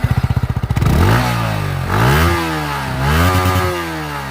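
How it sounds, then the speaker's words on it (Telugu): A 2025 Yamaha MT-15 with a 155cc single-cylinder engine fires up close by, its exhaust thumping rapidly at first, then rising through three rev blips that each fall back to a steady idle. "మనం అయితే ఒకసారి దీని ఎగ్జాస్ట్ సౌండ్ అయితే విందాం."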